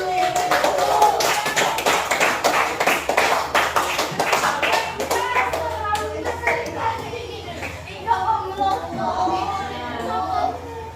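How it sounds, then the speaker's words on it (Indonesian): A class of students tap their shoulders and then clap their hands during a Pancasila education lesson: a dense burst of sharp, rapid taps and claps near the start that thins out as children's voices chatter throughout. "silakan tepuk sebentar pundaknya ya sampai sana. Dan tepuk tangan dulu."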